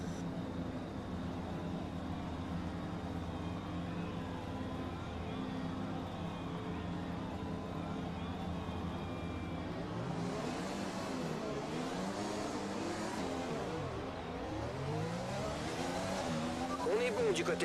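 In F1 2020, a Formula 1 car on the formation lap hums at a steady engine drone, then rises and falls in pitch from about halfway as it weaves and accelerates. The sound stays constant and fairly near, with speech over it.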